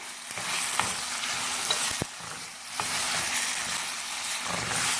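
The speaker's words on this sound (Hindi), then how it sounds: "प्याज और जिंजर गार्लिक पेस्ट में चिकन को फ्राई करेंगे इतनी देर तक जैसे ही कलर चेंज हो जाएगा" Chicken frying in onion and ginger garlic paste for a jalfrezi gives a steady, fairly loud sizzle. Scrapes and knocks of stirring break through it now and then, and no one speaks.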